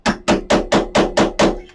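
A hammer strikes a metal eyelet setting tool resting on a pounder mat during a paper craft project, giving seven loud, evenly spaced blows in a quick, steady rhythm.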